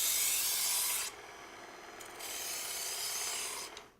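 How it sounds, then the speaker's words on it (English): A kitchen knife is drawn through a combo sharpener with a ceramic slot, giving two long, close, gritty rasping strokes separated by a brief pause, with no voices. "I'll sharpen my knife with the combo sharpener"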